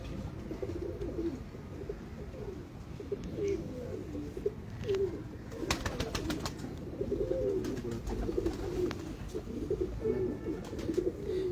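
Pigeons coo in low, rolling, repeated calls from a rooftop loft, moderately close and steady throughout, with a few light clicks and no talking.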